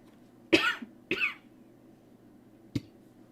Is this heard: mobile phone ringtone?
no